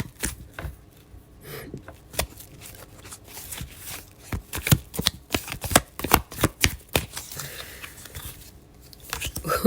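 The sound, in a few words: pulling and shuffling tarot cards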